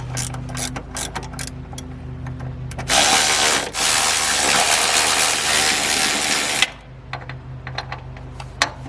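Subframe bolts on a classic Mercedes W108/W109/W113/W111 being cinched up with a ratchet, the metallic clicking and turning running close up, with a dense, loud burst of grinding mechanical noise through the middle.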